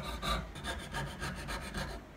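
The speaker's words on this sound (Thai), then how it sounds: "ใช้เลื่อยฉลุนะฮะเห็นไหม" Scroll saw cutting through pallet wood while fretting out a piece for a DIY adjustable phone stand, a steady rasping buzz with repeated stroke-like pulses, close and alone.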